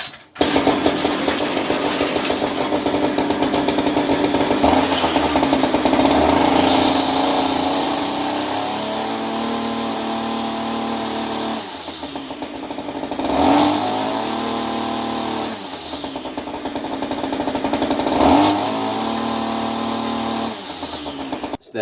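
A petrol strimmer that had been bogging down is started with the choke on, then its small two-stroke engine revs hard and loud, rising to a high whine three times with brief drops back toward idle between, with no talking.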